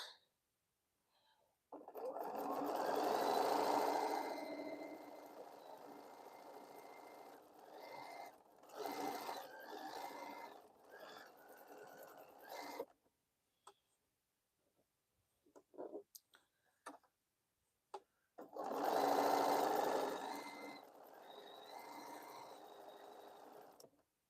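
A sewing machine stitches a seam on a Boho Heart quilt, running in two long bursts with a pause between them. Softer handling clicks fill the gap, close by and without talk.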